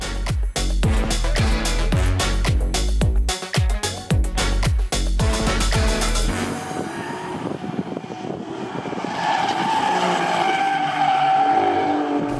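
A 2024 Alfa Romeo Stelvio Quadrifoglio SUV is driven hard on a race track. The engine roars loudly with rapid up-shifts and revving surges, then settles into a lower, rougher drone with tire and wind noise.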